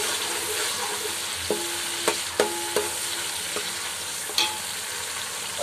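Tomatoes and green chillies stirred into ginger-garlic paste frying for chicken biryani, a constant sizzle under several clanging spoon strikes against the pot, each ringing briefly.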